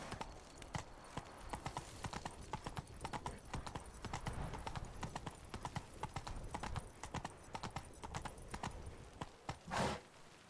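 Rapid, steady clip-clop of horse hooves runs throughout in The Witcher 3 video game, close and even-paced, with a louder burst near the end and a voice speaking briefly over it.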